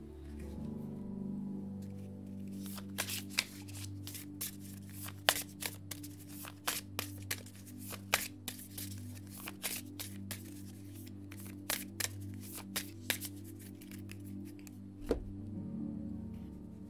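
Earth Magic oracle cards are shuffled by hand in a long run of quick, crisp riffling flicks and soft slaps, close and fairly quiet over a low background hum, with no voices.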